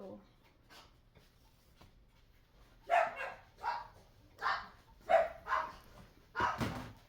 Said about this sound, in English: I have to see when my dogs are barking